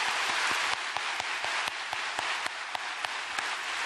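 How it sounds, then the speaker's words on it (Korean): Church congregation applauding during a Korean sermon, a steady wash of clapping filling the room with a few sharper individual claps standing out, no voices over it. "그 예수님께 큰 박수로 영광을 올려드립시다."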